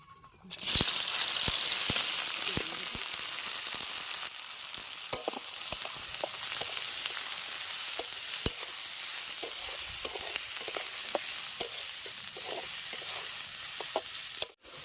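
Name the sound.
onion frying in hot mustard oil in a wok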